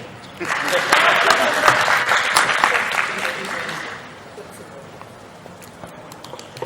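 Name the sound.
audience applause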